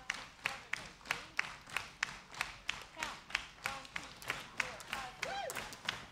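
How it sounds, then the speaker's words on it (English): An audience at a family matinee with a gospel choir claps along in a steady, even rhythm, the crisp unison claps about two per second under faint voices, with a brief rise of crowd noise near the end. "Keep the clapping going."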